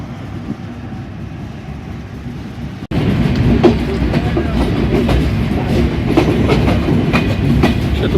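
The Chitra Express passenger train runs on rails between Dhaka and Khulna, its loud steady rumble and rhythmic clickety-clack heard from close by, jumping suddenly louder partway through.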